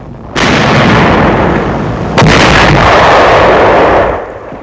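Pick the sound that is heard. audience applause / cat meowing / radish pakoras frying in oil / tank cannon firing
tank cannon firing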